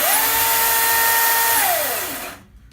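Ryobi One+ brushless electric chainsaw running indoors in a flat, a loud, steady high-pitched motor whine that winds down in pitch and cuts off into silence near the end.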